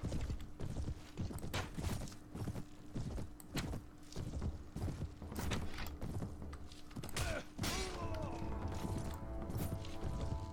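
Horses clip-clop and gallop across a medieval battlefield in the Mount & Blade Warband game, with hoofbeats, creaking gear and an occasional whinny layered in a dense, continuous mix.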